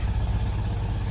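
A car engine idles very low at barely 200 RPM while still cold, a steady near rumble with an uneven low throb.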